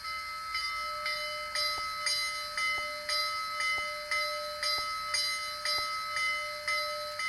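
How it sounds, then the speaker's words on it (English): The sound-decoder bell of an HO scale Athearn Genesis Union Pacific 4-6-6-4 Early Challenger model steam locomotive rings in a steady, even rhythm of bright metallic strikes, clear and alone with no talk. "The bell is activated with F1."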